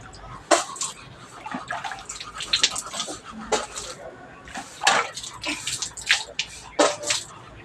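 Water splashing in bursts as a face is washed, uneven irregular splashes and drips close by, with some quiet background voices.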